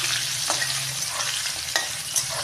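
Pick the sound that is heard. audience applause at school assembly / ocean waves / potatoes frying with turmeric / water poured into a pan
potatoes frying with turmeric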